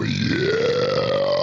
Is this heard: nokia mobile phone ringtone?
no